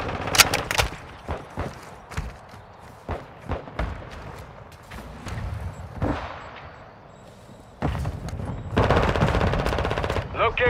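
Bursts of machine gun fire in Call of Duty: Modern Warfare II ring out in loud rapid volleys across a battlefield, broken by thuds and heavy sustained firing near the end, with faint shouted voices in between.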